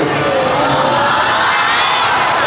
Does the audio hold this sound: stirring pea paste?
no